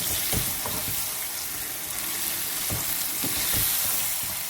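Stuffed eggplant (bharwa baingan) in masala sizzling and frying in a pan while being stirred, a steady close hiss with a few soft scraping knocks of the spoon, no talking.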